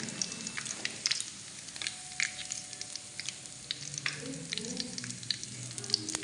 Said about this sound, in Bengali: পেঁয়াজটা একদম সুন্দর ভাজা হয়ে গেছে